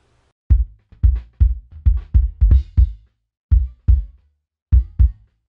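A bass drum, EQ'd with a deep 18 dB cut at 132 Hz, strikes about eleven close, punchy thumps in an uneven groove, each hit decaying quickly, with no voices.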